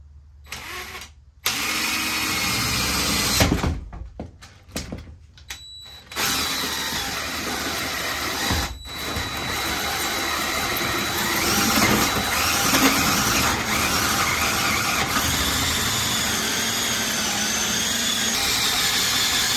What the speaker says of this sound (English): Let me get the hole saw set up and we'll start drilling.